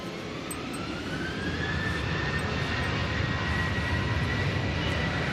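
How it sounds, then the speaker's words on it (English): British Airways Airbus A319 jet landing at Manchester Airport on a windy day after a flight from London Heathrow, a steady broadband engine roar with a faint whine, moderately distant and unbroken, no voices. "British Airways now coming in. It's an A319 coming in from London Heathrow."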